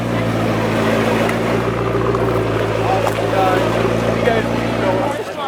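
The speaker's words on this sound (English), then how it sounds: "Check out these 12C doing a few little revs." McLaren 12C supercars revving at a Cars and Coffee meet, a loud, sustained engine roar with rising throttle blips near the car, with people talking faintly in the background.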